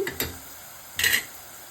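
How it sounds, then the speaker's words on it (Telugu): Fenugreek leaf curry being stirred in a pan, two short scraping swishes with a faint sizzle between them. "ఒక రెండు నిమిషాలు మళ్ళీ మెంతికూర మగ్గిన తర్వాత ఒకసారి కలిపి ఇందులో పసుపు కారం వేయాలి"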